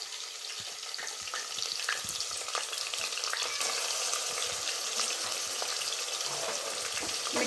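Ginger garlic paste and green chillies fry in a pan as a tempering for mixed vegetable sambar, giving a soft, continuous sizzle with scattered scraping taps from stirring.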